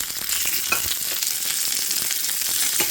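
Mustard seeds, curry leaves, onion and dried red chillies crackle in hot tempering oil for obbattu saaru, making a dense, close sizzle with frequent sharp pops and spits and no one talking.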